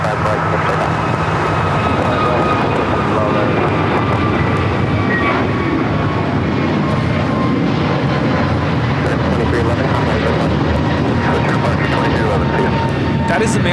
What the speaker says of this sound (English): That is American Airlines 2311 taking off to Miami, Florida on the A321neo.